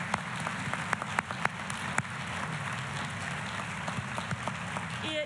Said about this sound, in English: Let's give this amazing group of leaders another round of applause.